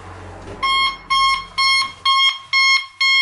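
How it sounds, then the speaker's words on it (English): A 1990s Regalsafe FS50 alarm panel sounds its entry tone: a loud, shrill electronic beep pulsing in a steady on-off rhythm, about six bursts, heard up close without talk. "Okay, entry tone,"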